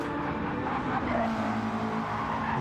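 A Lexus GT race car running on worn-out tyres at a St Croix circuit, its steady engine drone holding close and continuous throughout with faint tyre noise, no voices.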